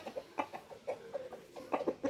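Brazilian-breed rooster giving a string of short clucks and low calls in quick, uneven bursts, close and fairly quiet, with no voices.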